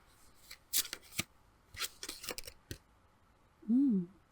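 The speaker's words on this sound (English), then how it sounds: "let's go ahead and get some more cards laid out here" Tarot cards are laid out on a table: several quick papery slaps and flicks, close and moderately loud, ending in a short burst of voice.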